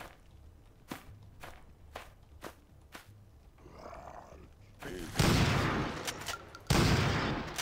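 Gunfire in the horror shooter NecroVisioN, a series of sharp single shots followed by two loud, roaring blasts near the end.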